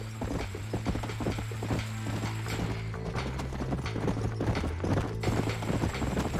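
Horse hooves clip-clop in a steady galloping rhythm in the video game Red Dead Redemption (2010, Xbox 360), close and continuous, with a brief neigh and no speech.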